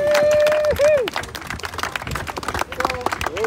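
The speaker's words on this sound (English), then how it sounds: "Give a round of applause." Applause and scattered clapping break out from a crowd at a congressional event, sharp uneven hand claps mixed with cheering voices and babble, fairly close and lively.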